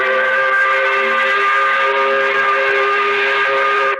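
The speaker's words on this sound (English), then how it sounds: "We do it by blowing the 5 o'clock whistle." A loud, steady steam-style factory whistle, the 5 o'clock whistle at a New Orleans radio broadcast, blows continuously as one sustained multi-tone blast for about four seconds before cutting off abruptly.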